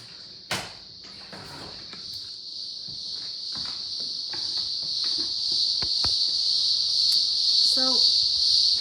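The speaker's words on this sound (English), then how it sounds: "as you can hear, it's cicada season in the Blue Mountains" Cicadas droning in the Blue Mountains during cicada season, a steady high-pitched shrill buzz running throughout and slowly growing louder, with faint scattered clicks and a brief rustle near the start.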